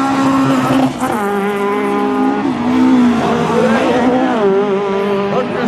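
Rallycross race cars roar along the track in a B final, their engines droning loud and steady and rising and falling in pitch as they shift and accelerate, with some tire noise mixed in.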